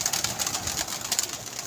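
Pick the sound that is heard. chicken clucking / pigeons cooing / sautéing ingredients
pigeons cooing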